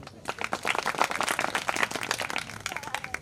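An audience claps at a Gujarati comedy and devotional singing show. The clapping is moderate and uneven, with separate hand claps heard through the crowd sound, and it tapers off after a few seconds.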